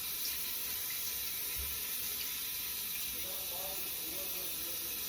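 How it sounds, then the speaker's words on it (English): Tap water runs steadily into a sink as a brush cleaning pad is rinsed beneath it, a constant close hiss and splash with slight shifts in tone toward the end. "I'm gonna rinse off this brush cleaning pad."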